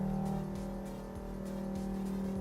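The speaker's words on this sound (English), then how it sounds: "Does the car sound the same in real life versus the game?" Engine of a Volvo S60R with a five-cylinder motor, recreated in a racing simulator game, hums steadily at moderate speed with harmonic drone and periodic shifts in pitch, loud and alone with no talking.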